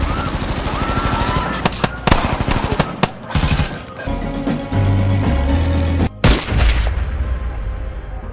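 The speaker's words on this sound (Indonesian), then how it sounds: "para anak buahnya yang sudah mempersiapkan senjata kemudian melakukan aksi pembantaian dengan tanpa belas kasihan sedikit pun" Gunfire in a film massacre scene: loud rapid bursts of automatic weapon fire, sharp cracks and booming hits tumbling over one another, close and intense throughout with brief gaps between volleys.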